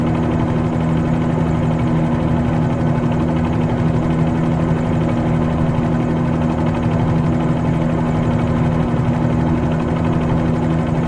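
Bell 47G helicopter in Microsoft Flight Simulator 2020, a loud, unbroken engine and rotor drone holding one steady pitch throughout, close and with no voices.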